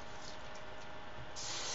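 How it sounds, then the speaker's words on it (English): Hairspray is sprayed onto hot, freshly wand-curled hair as a soft, continuous hiss that swells slightly toward the end. "spray that while it's hot"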